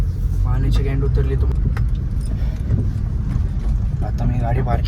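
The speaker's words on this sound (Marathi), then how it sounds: "आता मी गाडी पार्किंगला लावतो" A car pulls into a parking spot with a steady low engine rumble, close by, while someone talks over it and keys jingle briefly.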